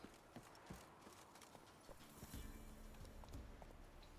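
Roach the horse galloping in The Witcher 3, a quick steady clip-clop of hooves on the ground, rhythmic and continuous, with ambient game sound in the background.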